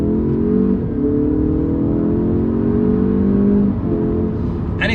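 An Alfa Romeo Giulia Veloce Ti accelerates hard from inside the cabin, the engine note climbing steadily through a gear, dipping at a shift, then rising again, loud and continuous.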